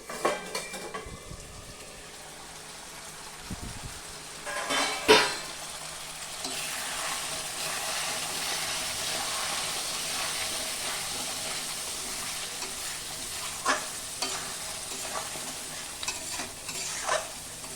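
Mutton bhuna frying in a pot, stirred with a utensil that scrapes and clinks against the metal over a steady sizzle, with a few louder knocks, no voices.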